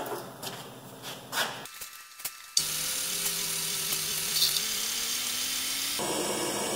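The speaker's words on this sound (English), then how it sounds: "They're drilling really easy." A power drill bores out soft rivets on a VW O2J gearbox during a teardown, a few short taps and bursts first, then a continuous whining drill run that stops near the end.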